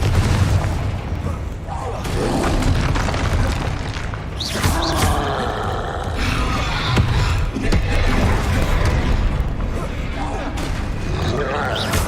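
Confringo blasting spells exploding in a wizarding game, a run of heavy booms and crackling bursts one after another over a rumbling backdrop, with a voice speaking between them.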